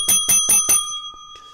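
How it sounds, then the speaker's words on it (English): Stock market closing bell heard as a bright metallic ring struck four times in quick succession, then a ringing tail fading away, loud and close with no talk. "Well, that's the closing bell"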